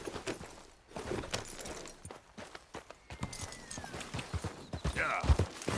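A horse in Red Dead Redemption 2 moves at a gallop with quick, rhythmic hoof clops, fairly faint and steady, with a short snort or whinny near the end and a hint of a voice.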